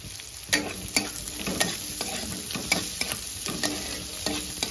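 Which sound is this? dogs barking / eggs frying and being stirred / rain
eggs frying and being stirred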